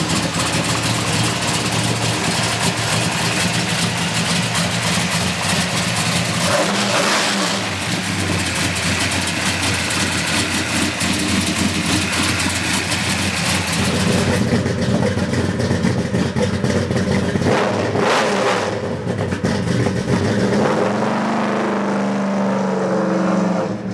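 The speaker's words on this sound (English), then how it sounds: "500 inch motor and a 69 Chevrolet pickup truck" A 1969 Chevrolet C10 pickup's 500-cubic-inch V8 idles with a deep, loping rumble and is revved a couple of times, loud and close, with no talking.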